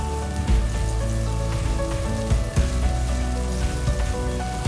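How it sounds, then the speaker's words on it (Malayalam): Fish pieces go into a bubbling chili fish curry of Kashmiri chili powder, giving a steady close sizzle and bubbling with soft plops and clinks as each piece lands. "നമുക്ക് ഓരോ മീൻ കഷ്ണമായിട്ട് ഇട്ട് കൊടുക്കാം"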